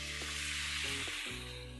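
Orange-glazed bacon sizzles in a frying pan, a steady, soft hiss of frying with faint kitchen tones running through, and no talk.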